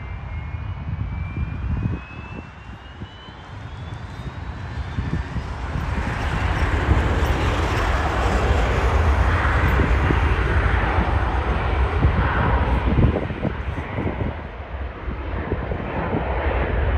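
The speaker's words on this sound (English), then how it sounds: "Bombardier Challenger 3500, destination NA." A Bombardier Challenger 3500 business jet at Toronto airport, its engines a steady broad roar that builds from about five seconds and holds loud and close before easing slightly near the end.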